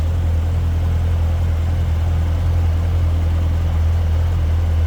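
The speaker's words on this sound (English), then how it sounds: "Supercharged LT4 power plant." A supercharged LT4 V8 in a 2015 Chevrolet Corvette Z06 idles steadily, a close, loud, even engine drone that holds without change throughout.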